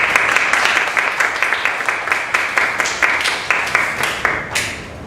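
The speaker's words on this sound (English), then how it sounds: "I would like to give her a big round of applause" Audience applause at a Toastmasters club meeting, a dense, steady burst of many hands clapping together, fairly close and loud, fading slightly toward the end.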